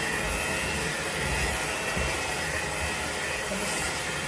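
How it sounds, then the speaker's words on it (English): A stand mixer kneading bread dough for crusty rolls runs loud and steady, a continuous motor whir with a faint, uneven rumble underneath and no talk. "I'm going to use this machine to knead as opposed to kneading by hand."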